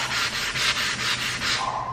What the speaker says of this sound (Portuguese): sempre a gente vai trabalhando na diagonal e vamos lixando até sair totalmente o controle de lixamento